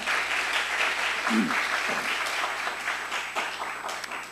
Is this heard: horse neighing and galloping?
no